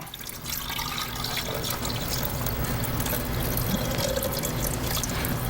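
Glue and borax solution poured together into a container for homemade glowing slime, a continuous liquid pouring and splashing sound, fairly loud and steady, with no talking.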